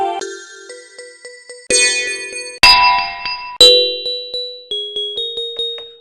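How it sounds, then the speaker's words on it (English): Bell one-shot sample triggered repeatedly in Studio One: a run of bright, ringing metallic dings with long decaying tails, some struck louder and clangier, others soft and quick in a steady tapping rhythm, with no voices. "All right, so that's how the bell sounds."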